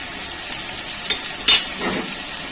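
Prawns frying in a pan with coriander and cumin powder, a bright continuous sizzle under a few stirring scrapes, with one louder scrape near the middle; no talking.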